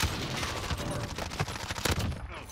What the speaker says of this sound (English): Mister, I'm shooting you, but I have a silencer, so you don't even know I'm here.